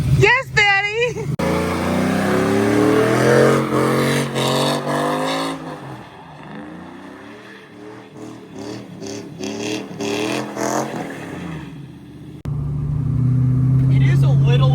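A cammed Chevrolet Silverado with a full exhaust and muffler revs close up. Its choppy idle rises and falls through repeated throttle blips, with people talking over the engine throughout.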